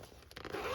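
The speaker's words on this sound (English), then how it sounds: "I bagged them up and stuck them in my zipper pouches" A fabric zipper pouch being zipped makes one short rasping pull that grows louder and brighter toward the end, close and brief with no talking.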